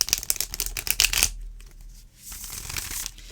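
A new deck of Fallen Angel Oracle cards made from card stock is shuffled in quick, crisp riffling bursts. After a short pause, softer shuffling follows, close up with no talk.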